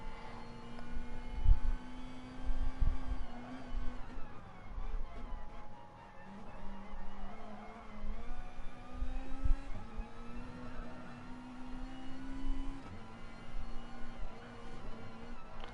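A 635-horsepower Mazda Atenza race car charges uphill at Bathurst, its engine droning loud and steady with pitch rising and falling through gear changes across the whole stretch, no voices over it.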